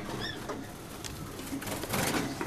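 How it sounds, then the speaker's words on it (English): Canary chicks about ten days old give faint, high chirps close by, a few brief calls scattered over a low background. "Little baby birds."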